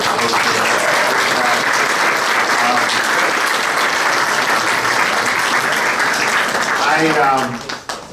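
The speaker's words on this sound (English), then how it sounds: "Let's give them a round of applause for" Sustained, loud audience applause at an inaugural reception in Chicago, dense steady clapping from a crowd that tapers off near the end, with voices mixed in beneath.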